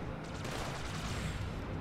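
Enemy gunfire aimed at the player in Halo 2 Anniversary: a steady, dense clatter of automatic shots and blasts with no pauses, fairly loud and up close.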